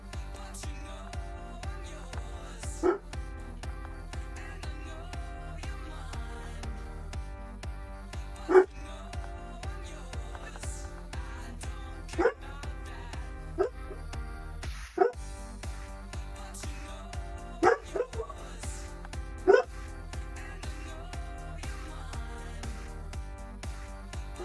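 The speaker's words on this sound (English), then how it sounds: "He's very barky." Loki, a pet dog, gives about half a dozen sharp, separate barks spaced a few seconds apart over a steady background of music, moderately close and clearly above it.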